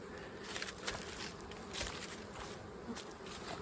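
Honeybees hum in an opened hive during a fall inspection of a colony recovering from queen loss, a soft, steady drone with individual bees zipping closer now and then in brief louder swells.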